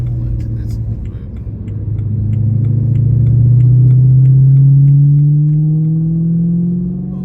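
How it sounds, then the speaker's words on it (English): A BMW E92 M3 with a Valvetronic exhaust rumbles at low revs, a deep, loud, droning boom that builds and rises steadily in pitch, heard from inside the car. "Those low revs there get a little bit on the loud side."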